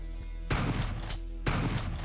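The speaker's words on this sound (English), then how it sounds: "I'm gonna then shoot this guy" Two sharp gun bursts in the video game Quasimorph, each a loud crack with a short decaying tail, heard over a low droning game background.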